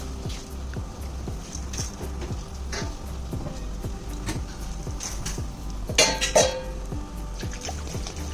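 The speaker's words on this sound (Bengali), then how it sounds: "এবার আগে থেকে ধুয়ে রাখা ডালটা এই সবজিগুলোর সাথে মিশিয়ে নেব।" Washed lentils are mixed into boiled vegetables in a pot for the Tripuri dish chakhwi, producing a rhythmic series of soft clinks and wet scrapes, with a brief louder splash near the end.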